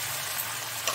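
Ginger paste frying in a pan, a steady close sizzle throughout with a faint stir near the end.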